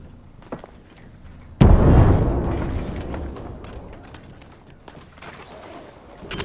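A frag grenade detonates in Apex Legends as a sudden loud broadband boom, its rumbling tail slowly decaying over several seconds beneath faint game ambience.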